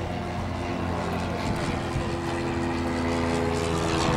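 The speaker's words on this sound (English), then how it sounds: "There goes the Citabria." Citabria aerobatic propeller airplane flying past at an airshow, a steady droning engine hum with harmonic tones that swells slightly toward the end, moderately near and continuous.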